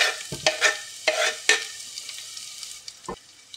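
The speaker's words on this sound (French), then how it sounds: "je vais y mettre mon oignon à revenir" Chopped onion sizzles gently in a pan as a utensil stirs it, with several sharp scraping strokes early on, then a quieter crackle and one more clack near the end, no voices.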